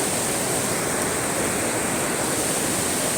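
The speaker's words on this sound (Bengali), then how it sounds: "ওই যে উপর থেকে অনেকগুলো জল পড়ছে" A waterfall at Anini in Dibang Valley, Arunachal Pradesh, pouring from a height: a loud, steady broadband roar of rushing water filling the whole clip, with no voices.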